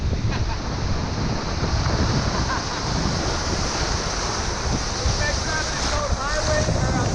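Swollen river running at about 7,000 cubic feet per second after years of drought, with fallen trees in the water, gives a steady broadband roar of rushing water with wind noise on the microphone, continuous and close throughout.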